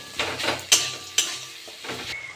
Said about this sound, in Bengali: পাটালি গুড়টা দিয়ে দেবো নেড়ে তেলে নেবো